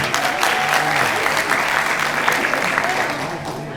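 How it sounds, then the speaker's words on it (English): Graduation audience at a valedictorian ceremony claps for an honorary teacher, a steady, full round of applause throughout with a faint murmur of voices beneath. "God, clap for him."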